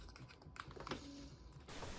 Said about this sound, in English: now I will open the rest of it with plastic tool